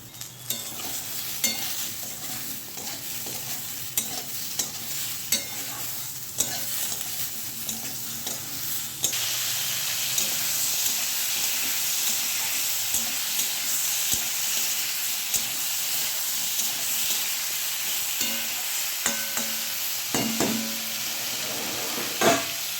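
Food fries steadily in a pan with salt and turmeric added, a continuous hiss of sizzling with intermittent stirring clinks, no talking.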